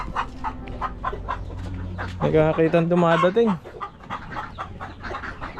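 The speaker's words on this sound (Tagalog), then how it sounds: "Ay, mga manok." Chickens cluck in short bursts, with a longer drawn-out call from a hen in the middle, while a person speaks nearby; ducks are also around.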